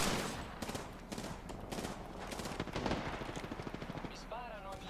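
Gunfire in the Apex Legends video game, with rapid bursts of shots crackling over dense background game noise and a player's voice talking over the action.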